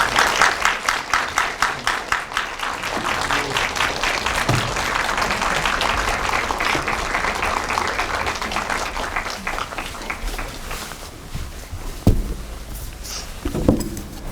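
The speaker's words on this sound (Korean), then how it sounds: "큰 박수로 맞이해주시기 바랍니다" Theater audience at a film screening with guest Q&A applauds the arriving director and actors, steady sustained clapping that fades toward the end with a few scattered thumps.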